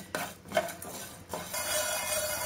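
Cumin seeds and roasted white sesame are lightly fried in a pan, with a few sharp clanks of a spoon against the metal followed by a soft, steady sizzle and stirring scrapes, close and moderately quiet.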